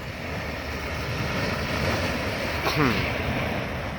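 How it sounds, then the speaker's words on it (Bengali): A tidal bore surges up a river on a full-moon day, heard as a broad, steady rushing roar of water and wind that swells slightly near the end, with faint voices in the background. "বানের শকওয়েভটা আসছে"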